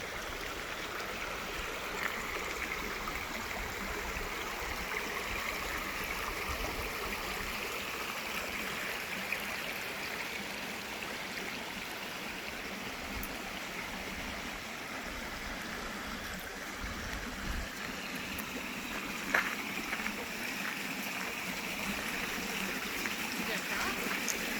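A creek flows steadily past a small bridge crossing on a camping trail in the Ouachita Mountains, a constant close rushing wash that fills the whole stretch, with faint voices now and then beneath it.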